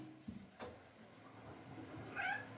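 A cat meows a few times indoors at low level: a short call near the start, another soon after, and a clearer, higher meow near the end, with quiet room noise between.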